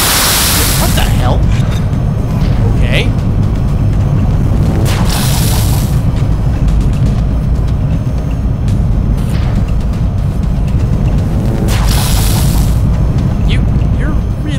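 Repeated heavy booms and blasts ring out in the video game XCOM: Enemy Unknown as a SHIV robot is shot apart, loud explosions landing every few seconds over constant battle noise.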